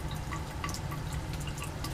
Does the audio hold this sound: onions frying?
no